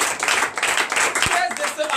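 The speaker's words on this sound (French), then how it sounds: "Que je vous prie d'acclamer très très fort." A church congregation at a night deliverance service claps loudly and fast in dense, continuous applause, close by, with voices mixed in.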